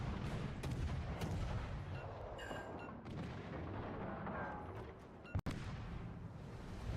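Naval guns boom in World of Warships, a video game, with heavy shots and rumbling impacts over a steady battle drone, plus one sharp loud blast near the end.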